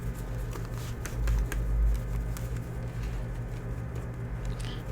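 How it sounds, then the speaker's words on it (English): Playing cards being shuffled for a tarot-style reading, a soft continuous riffling patter with faint clicks over a low steady hum, close and fairly quiet, with no talking. "Bear with me as I shuffle."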